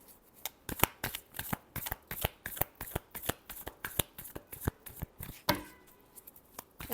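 A deck of cards is riffled and shuffled for a tarot-style reading, with quick rhythmic snapping bursts repeating steadily, close and crisp, without any talking.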